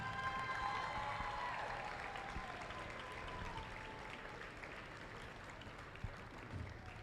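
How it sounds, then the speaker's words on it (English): A crowd at a Grayson County basketball rally gives a round of applause, dense continuous clapping with faint cheering that slowly thins out over several seconds, heard from a distance. "Let's give this group one more round of applause."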